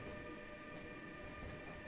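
A long freight train in Train Simulator 2022, on a fictional METRANS run between Ústí nad Labem and Děčín, rolls past with a steady, loud, continuous rumble and wheel noise.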